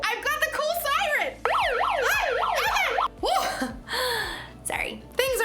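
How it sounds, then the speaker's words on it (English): A toy siren cycles through a rapid series of rising and falling electronic wails and yelps, loud and close, with short gaps between the sweeps. "I've got the cool siren."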